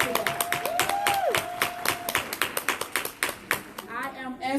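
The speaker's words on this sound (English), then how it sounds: "Why don't you give yourselves a round of applause today?" Audience applause at a plus-size women's expo: sharp, distinct claps from a modest crowd in an indoor hall, irregular and close, with a voice speaking over them and a tone sounding early on.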